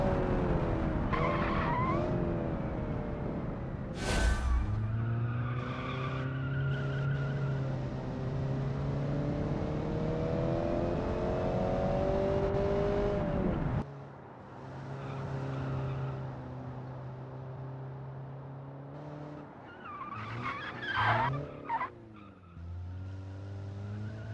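Car tires skid and squeal through long four-wheel drifts in the Automation car-building game, with engine revving underneath; loud, sustained sweeping tones shift pitch, break off near the middle, then return in shorter bursts.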